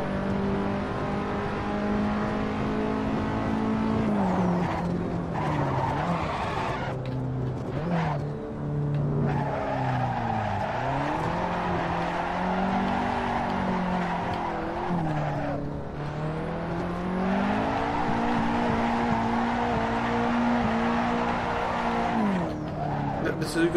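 A race car in Assetto Corsa power-slides with a revving engine whose pitch rises and falls through shifts, long tire squeals and skids layered over it, loud and continuous for over twenty seconds.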